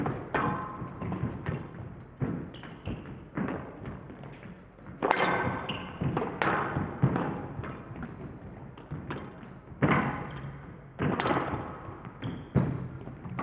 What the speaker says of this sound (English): Yeah, great shot from Gilis, straightening that ball